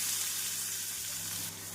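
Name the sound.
chopped onion frying in hot oil with cumin and fennel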